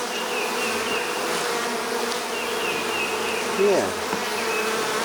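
Honeybees buzz steadily around an open top bar hive during an inspection, a close, continuous hum with individual bees droning past; one person briefly says a word.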